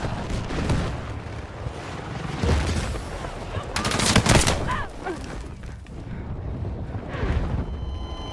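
Battlefield 6 match gunfire: sustained rattling bursts of automatic weapons and sharp sniper cracks, with a loud cluster of shots in the middle, dense and continuous throughout.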